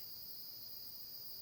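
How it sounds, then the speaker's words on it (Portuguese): A cicada sings outdoors as a steady, faint high-pitched drone that holds unbroken and alone throughout. "E eu acho que tem uma cigarra cantando aqui atrás."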